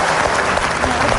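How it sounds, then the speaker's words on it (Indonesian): Dense clapping from a crowd, loud and steady throughout the short burst. "Tepuk tangan dong"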